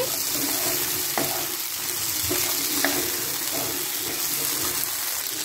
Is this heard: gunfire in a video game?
no